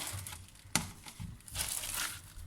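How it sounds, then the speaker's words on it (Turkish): Crinkling of a plastic freezer bag as stuffing peppers are placed inside one by one, soft rustles with a sharp crackle near the start and a louder, longer crumple toward the end. "şöyle buzdolabı poşetinin içerisine teker teker yerleştireceğim"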